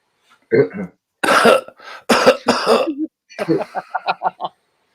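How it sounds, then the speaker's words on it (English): Several harsh coughs and throat clearings come close up in separate bursts, ending in a quick series of short hacking coughs. "And I can't cough any louder."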